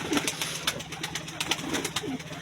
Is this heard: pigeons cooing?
yes